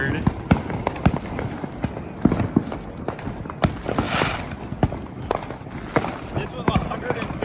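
Fireworks going off at a backyard party, sharp pops and bangs scattered irregularly through the clip, some near and loud, with excited voices talking and exclaiming throughout.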